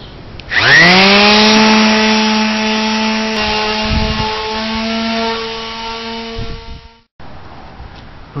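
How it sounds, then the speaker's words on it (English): A power sander lightly sanding green-painted wood spins up quickly to a loud, steady whine that holds for several seconds, then cuts out abruptly before a short, quieter tail of noise. "So I'm just going to do another light sanding."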